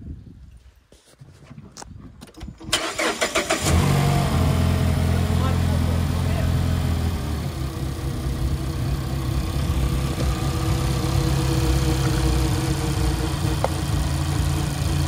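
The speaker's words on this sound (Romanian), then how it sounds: "apoi se pornește mașina ca și cum bateria este încărcată" A car is jump-started with a JFEGWO 3000A compact jump starter and compressor. A few sharp clicks are followed by the engine cranking and catching, then a steady, loud, close idle runs to the end.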